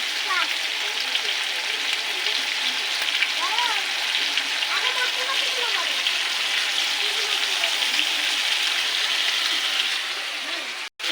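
Chicken fries in a pan with ginger, garlic and green chili paste, a loud, steady sizzle running throughout, with a voice speaking intermittently over it before a sudden cut at the end.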